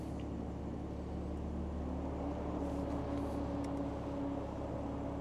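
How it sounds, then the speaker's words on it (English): A BMW with a dual-clutch transmission idles in neutral, a steady low engine hum with a constant drone, quiet and unchanging throughout. "Start the engine."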